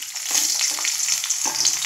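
Potato pieces frying in hot oil in a pan on medium flame after aubergine, a close, continuous sizzle with occasional stirring scrapes.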